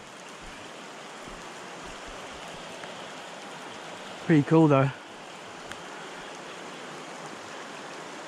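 Steady rain falls beside a bush stream on a rainy-day walk, a soft even hiss of water running throughout, with a voice briefly speaking over it midway.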